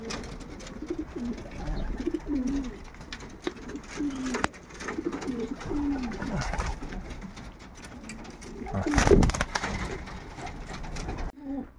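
Pigeons cooing inside a pigeon loft, repeated soft throaty coos close by over a low murmur, with a brief louder flutter or rustle near the end.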